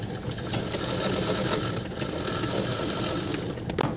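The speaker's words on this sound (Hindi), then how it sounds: "इसको इस तरीके से पलट के इसके ऊपर से सिलाई लगा देंगे" A sewing machine runs in one steady, continuous whir, close and fairly loud, as it stitches over pleats on a kurta's umbrella sleeve. No one speaks.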